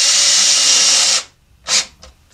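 Power drill driving a 1-inch drywall screw at an angle into a Dobsonian telescope base, a loud steady whir that cuts off, followed by a short second burst and a faint third.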